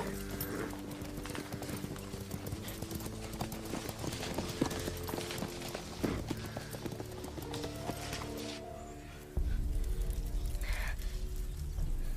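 Steady clip-clop of horse hooves plodding along at an even pace, with a faint whinny and background noise throughout.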